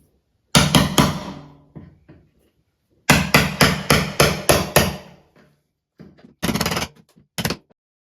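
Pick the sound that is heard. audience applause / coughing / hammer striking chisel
hammer striking chisel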